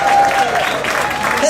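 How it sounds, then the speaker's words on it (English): A crowd at a memorial gathering in a restaurant claps in a dense, continuous burst of applause, fairly loud and close, with a voice and a sustained tone running beneath it. "Chico, round of applause for Chico."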